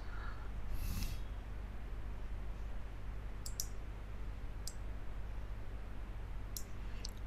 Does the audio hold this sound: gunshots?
no